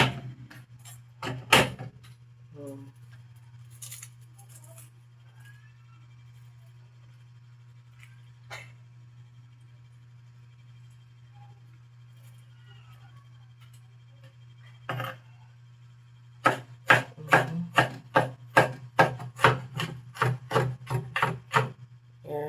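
Garlic cloves being crushed on a wooden board for a Filipino home dish, a series of sharp, rapid knocks and rasping thuds close by, rising into a dense burst of pounding toward the end over a steady low hum.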